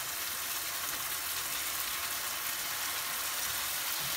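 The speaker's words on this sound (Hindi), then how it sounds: "हम इसे भून लेंगे 2 मिनट।" Corn and diced capsicum fry in butter in a pan, giving a steady, even sizzle with a soft crackle that holds throughout, with no talking over it.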